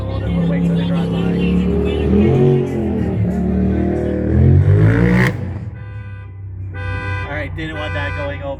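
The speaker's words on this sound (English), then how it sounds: "there's some cars driving by with radio" Cars drive by with their radios playing music outside a wrestling event pre-show, loud and steady with engine hum beneath, then the music thins and fades as people talk over it.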